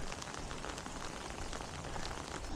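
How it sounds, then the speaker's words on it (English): Rain falling on a forest trail in a county park, a dense, even hiss of drops on leaves and ground, continuous and fairly soft, with no voices. "the rain is starting to pick up"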